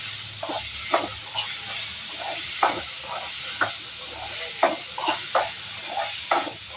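Black urad dal chutney mixture with salt being sautéed in a pan, a steady soft sizzle under repeated rhythmic scraping stirs of a spoon, close and moderately loud, without talk.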